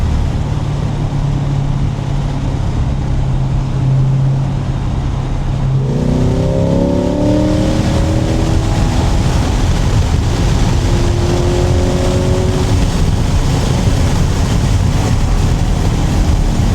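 A C8 Corvette with its top down accelerates on a New Jersey back road. A steady cruising engine note gives way to a loud, rising rev as the car pulls hard, with heavy wind rush throughout.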